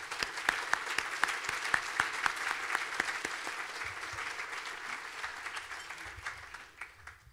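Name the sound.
applause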